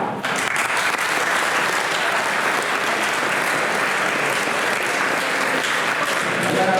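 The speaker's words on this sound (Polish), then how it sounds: "że należą im się szczególne brawa." Dense, sustained applause from a large audience at the grand finale of the Brodnica Beehouses project, a loud, even wash of clapping that holds steady for several seconds.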